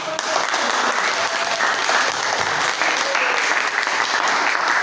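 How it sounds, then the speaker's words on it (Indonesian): A classroom audience claps steadily throughout, a dense, continuous wash of many hands at fairly close range with no voices standing out. "tepuk tangan"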